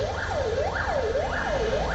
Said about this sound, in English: The Russian city of Kazan woke up to sounds of gunfire and blaring ambulances.